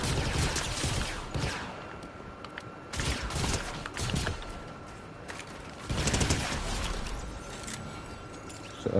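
Bursts of rapid video-game gunfire from a single gun, several clustered volleys separated by short pauses, loud and close with no talk over them.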